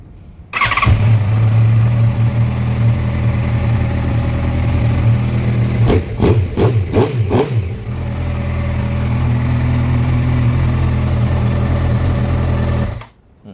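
A just-started motorcycle engine runs steadily and loud in a repair shop setting, a sustained idle with a squealing edge, briefly pulsing a few times midway before settling and cutting off near the end.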